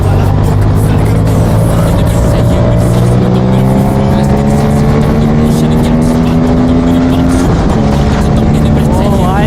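Aprilia RS 457 motorbike engine revving and accelerating hard on a road, loud and close, rising through gears with steady high-pitched tones and a brief shift near the end.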